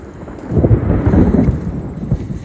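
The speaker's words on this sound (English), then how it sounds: "looks like I got thunder" Low rolling thunder rumbles steadily through a stormy outdoor setting, a broad continuous roar that swells and eases over a couple of seconds with faint wind noise beneath.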